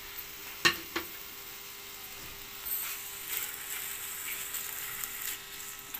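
Thinly sliced chicken frying in a pan for soup gives off a soft, steady sizzle, broken early by a couple of sharp utensil clicks and later by faint scraping stirs.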